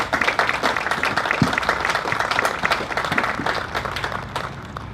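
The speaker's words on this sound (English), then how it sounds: "how about a round of applause for all the people that are out here tonight?" A crowd at an outdoor law enforcement support walk in Southbridge applauds steadily, a dense wash of clapping that holds for several seconds before easing slightly.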